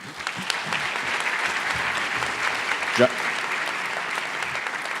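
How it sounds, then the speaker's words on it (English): Sustained audience applause for sponsors at a teacher of the year awards ceremony, steady crowded clapping with a faint voice briefly breaking through midway. "Let's give them all a round of applause."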